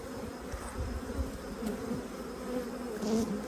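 A steady, close swarm of honeybees buzzing continuously, a dense droning hum with no voices.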